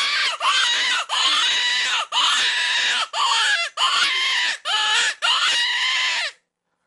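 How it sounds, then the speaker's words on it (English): A hand-blown predator distress call for coyote hunting in Michigan, sounded at full volume: six loud, raspy, screaming wails in a row, each about half a second long with brief breaths between, close and alone with no talk. "Now, I'm going to give a demonstration on"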